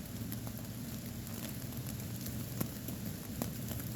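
Steady rain pattering on a wind cloak shelter tarp in the woods, a continuous dense hiss with a few sharper drips standing out, close and even throughout.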